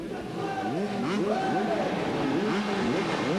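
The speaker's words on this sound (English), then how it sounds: "the modern 125cc motocross bike delivers an enormous amount of brake horsepower" Several 125cc motocross bikes race around a 1990 Paris supercross track, their engines overlapping in rising and falling revs, close and loud, with a commentator talking over the racing.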